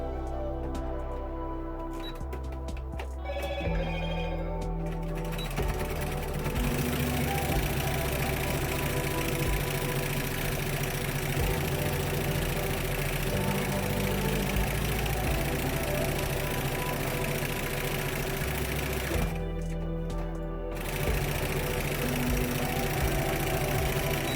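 A sewing machine runs steadily as it stitches binding over the raw edge of a pillow panel, making a continuous mechanical hum with brief pauses near the start and again toward the end.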